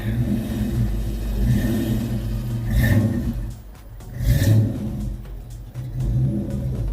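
A 1986 Ford Mustang LX Fox-body engine, fitted with a high-torque mini starter, runs with a steady low rumble and is revved twice, each burst rising and falling back to a rough idle, close by with no talk.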